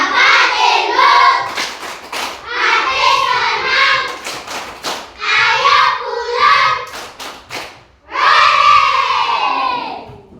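Children in an Indonesian classroom clap in quick rhythmic bursts and shout together in loud, energetic chants, the group noise repeating in several waves over about ten seconds.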